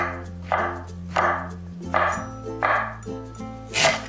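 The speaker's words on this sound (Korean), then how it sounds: "표고도 먹기 좋은 크기로 썰어주세요." A knife slices shiitake mushrooms on a cutting board in steady rhythmic strokes, six distinct close chops at roughly half-second intervals, each a soft thud with a crisp edge.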